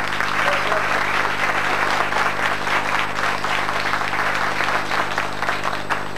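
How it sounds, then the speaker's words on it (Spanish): Steady applause from the audience at a school poetry contest, many hands clapping continuously at moderate loudness over a low constant hum from the hall. "Sandra Melo, para quien pide un fuerte aplauso."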